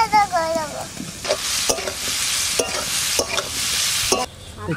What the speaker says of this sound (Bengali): কি রান্না হচ্ছে? এটা ফুলকপি, ফুলকপি রান্না হচ্ছে বাবা।